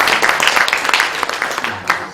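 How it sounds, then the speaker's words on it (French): A conference audience claps for a mathematics prize winner, a short burst of dense, mixed applause from many hands that fades over about two seconds, with a voice mixed in. "On applaudit Pierre encore une fois."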